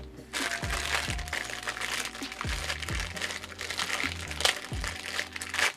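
Crinkly plastic packaging rustles and crackles continuously up close, with intermittent snips and crunches as blunt scissors cut through it.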